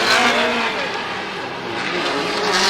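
A Formula Drift Japan competition car at Ebisu circuit throttles hard through a drift zone, a continuous loud engine roar with broadband tire and exhaust noise filling the whole stretch, steady and close without pauses.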